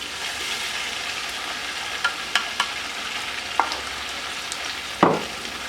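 Steady frying sizzle of ground onion in hot oil with a few scattered clicks and scrapes, then a louder stir or splash near the end.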